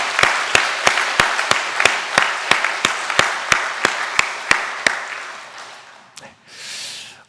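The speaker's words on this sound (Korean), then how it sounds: "우리 큰 격려의 박수 보내겠습니다" A church congregation at a Sunday morning service claps in unison to encourage someone, about fifteen sharp, loud, evenly spaced claps at a brisk steady beat that stop abruptly, followed by a brief murmur.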